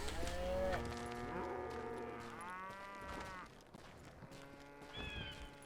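A cow in the video game Call of Juarez Gunslinger gives several drawn-out moos, close and fairly quiet, in a sequence of low, wavering calls separated by short pauses.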